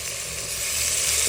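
Tomato, green chili, garam masala and ginger-garlic paste fry together in a pan for a beef dish, making a steady, close hiss of sizzling that holds even and slightly grows, with no voices.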